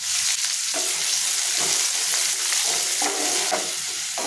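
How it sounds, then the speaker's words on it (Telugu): Three onions and three green chillies fry in hot oil in a pan for chicken biryani, a steady loud sizzle close up, broken by several scraping stirs of a spoon. "ఉల్లిపాయలు అలా వేగినాయి."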